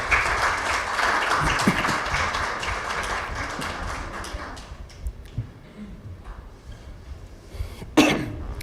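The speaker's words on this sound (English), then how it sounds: "Please give a big applause to Dr. Kaisar Bangali." Conference audience at an education and social sciences event claps steadily, a broad wash of applause that fades gradually into a few scattered claps and a cough.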